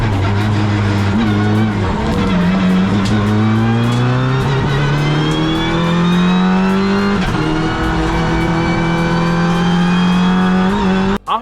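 A race car in the Polo Cup 2024 roars loud and close, its engine revving up in long rising sweeps, with a couple of shifts, a brief dip and a final abrupt cut.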